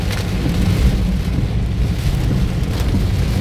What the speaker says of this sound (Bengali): মুষলধারে বৃষ্টি হচ্ছে